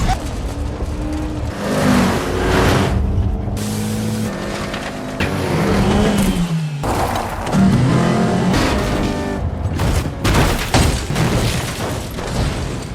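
Stolen police car roaring through a film car chase, with loud revving engines, passing vehicles and booming impacts layered over dramatic music in a dense, continuous mix.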